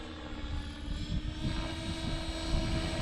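A T-Rex 500XT radio-controlled helicopter hovering close by, with a steady, continuous rotor buzz and whine that rises and falls slightly in loudness, with no voices.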